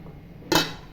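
A metal lid clanks shut on a pot of Kongu Nadu–style Coimbatore chicken biryani: one sharp, close clink with a brief ringing tail over quiet kitchen background.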